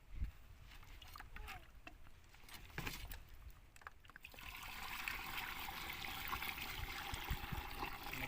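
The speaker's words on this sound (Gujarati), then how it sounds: "એના પછી પાણી નાખવાનું છે." Water pours and splashes into a pesticide sprayer pump tank, a continuous rushing that grows louder and fuller partway through, with faint handling noises.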